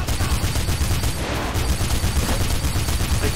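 Sustained gunfire from the Mirror's Edge video game, a dense and loud barrage of rapid shots that keeps going without a break for the full length, with no talking over it.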